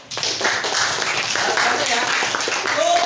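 A group of students in an outdoor physical education lesson on sprint starts clap their hands in a brief, dense burst, mixed with voices talking.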